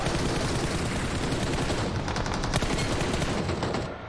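Heavy gunfire in the BGMI mobile battle royale game, a dense, loud, unbroken barrage of rapid shots filling the scene without talk, easing off slightly at the very end.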